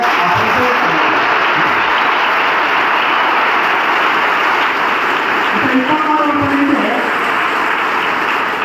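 An audience applauds soldiers who fought in the Kargil war, a loud and sustained burst of clapping from many hands that runs steady throughout, with a few voices rising briefly near the end.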